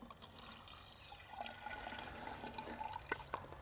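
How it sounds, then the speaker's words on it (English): Water poured into a series of cups for a camera exposure demonstration, a quiet, steady trickle and splash running throughout with a few brighter drips near the end, no talking. "As we pour the water into each cup, note how quickly the water pours through."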